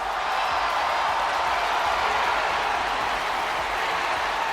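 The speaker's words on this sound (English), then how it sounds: "Jey Uso getting the crowd pumped up." A wrestling arena crowd in the WWE 2K24 video game roars and cheers in a dense, steady wall of noise that holds at full loudness the whole time, with no voices standing out.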